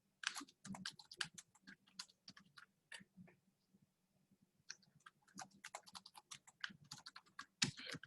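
Fingers type a username on a computer keyboard, a quick, close series of light key clicks in bursts with a short pause midway, quiet and alone.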